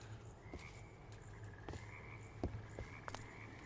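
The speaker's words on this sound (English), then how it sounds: "Why do I hear so many frogs?" Frogs croak in the Minecraft video game, several scattered short croaks at varying distances over quiet ambient background, faint overall with no talk.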